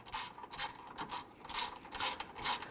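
A ratchet wrench clicks in several short bursts while snugging a bolt on an alternator bracket of a 2006-2012 Toyota RAV4 3.5L V6, close and moderately loud.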